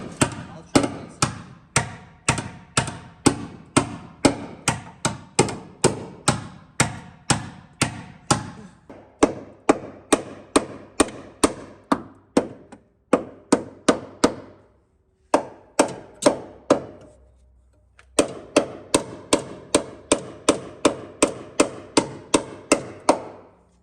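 Repeated heavy hammer blows beat on a steel car frame rail from a wrecked 2016 Nissan Pathfinder, coming in steady rapid bursts with brief pauses between runs, loud and close.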